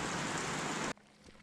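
Steady, dense rain hiss fills the first second, then cuts off abruptly, leaving only quiet background noise.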